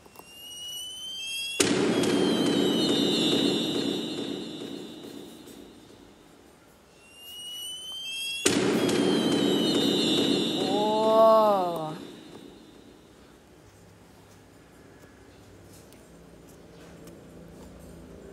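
The Whiz Bang monster from the My Singing Monsters video game: two loud bursts of whistling, crackling bang-like noise a few seconds apart, the second ending in a rising warble, then quieter tones.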